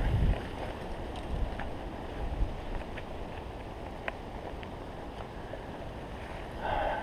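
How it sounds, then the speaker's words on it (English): Warm southerly wind gusting through Indian Creek Gorge in the Ponca Wilderness along the Buffalo National River, a continuous low rumbling rush with buffeting against the microphone and no speech. "Check out that wind, man."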